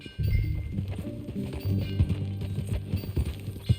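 In the Red Dead Redemption 2 video game, horse hooves clip-clop in a steady, close rhythm of repeated muffled beats that keeps going throughout.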